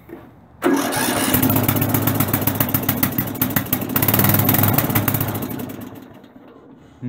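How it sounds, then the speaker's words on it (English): A Craftsman lawn tractor with a swapped engine cranks and fires up on its first attempt, roaring loudly and close with rapid chugging for about five seconds before dying down. "the first attempt to start of the Apple Craftsman."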